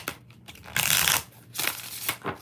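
A purple tarot card deck being shuffled in several quick riffling bursts, the loudest in the middle, with brief pauses between, close and alone.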